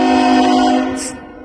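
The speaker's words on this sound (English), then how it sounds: "We got a train slowly coming by." A northbound Norfolk Southern freight train rolls slowly past the Lynchburg Amtrak station, its horn sounding loud and sustained over the rumble of the cars before easing off.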